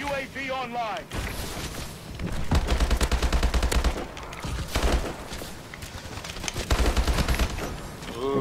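Rapid automatic gunfire in Call of Duty Advanced Warfare multiplayer, repeated bursts with steady rattling rhythm, loud and close, with a voice talking over parts of it.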